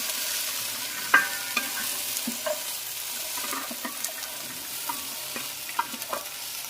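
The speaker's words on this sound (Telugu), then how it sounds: "వేడెక్కని నూనెలో చిక్కుడుకాయలు వేసేసుకుందామండి" Broad beans added to barely warmed peanut oil in a heavy, thick-bottomed pan give a steady soft sizzle, broken by scattered clinks and scrapes of stirring close by.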